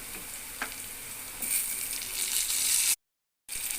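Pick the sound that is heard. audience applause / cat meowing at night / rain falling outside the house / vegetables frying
vegetables frying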